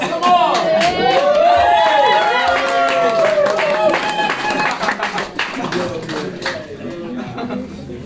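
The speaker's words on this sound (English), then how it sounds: "Come on, give him a round of applause." A live show crowd in Cape Town claps and cheers for a steelpan player, with the applause mixed with ringing melodic tones and shouting voices, loud at first and easing slightly toward the end.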